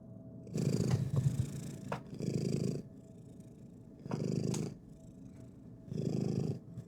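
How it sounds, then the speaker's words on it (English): Cat purring on a person's lap, close and clear, in slow rhythmic bursts of low rumbling, four main swells with quiet gaps between, alone without talk. "Nothing quite like a purring cat on your lap."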